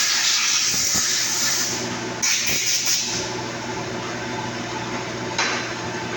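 A loud, steady hiss of compressed air blasting from a nozzle to clean dust off a vehicle's pulleys in a repair shop, with a few brief bursts and faint clanks, close to the microphone.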